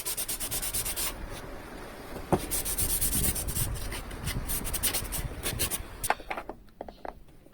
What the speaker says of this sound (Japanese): サンダーが終わったら、空研ぎペーパーをかけます。